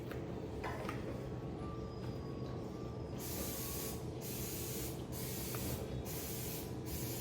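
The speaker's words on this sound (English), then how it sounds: "I'm going to spray some Pam type spray into the pan here." A steady aerosol hiss from a can of cooking spray sprayed into a muffin pan, several short bursts layered over a continuous background noise, close by.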